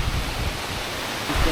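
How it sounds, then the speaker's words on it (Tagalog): Heavy rain and gusting wind at a campsite during a storm, a dense steady roar of broadband noise with no talking. "lakas na naman ng ulan tsaka ng hangin."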